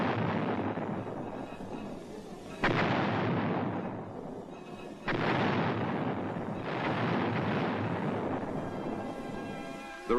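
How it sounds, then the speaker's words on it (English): Self-propelled howitzers fire in Vietnam with an armored cavalry regiment: three heavy booming blasts about two and a half seconds apart, each rolling off into a long fading rumble, with no voices. "Later, these were to be replaced by 155-millimeter howitzers, which have greater range."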